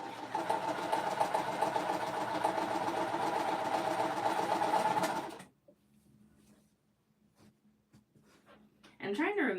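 A sewing machine pieces quilt fabric with a fast, even mechanical whir for about five seconds, then stops, leaving near silence with faint light rustles before another loud burst near the end.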